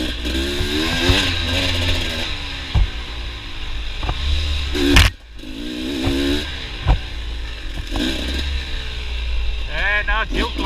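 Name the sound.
motorbike riding on an overgrown single track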